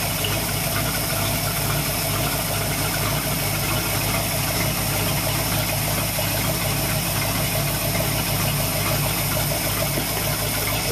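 True North 327F V8 engine idling under no load, a steady, loud, close rumble with a constant throb and mechanical clatter throughout.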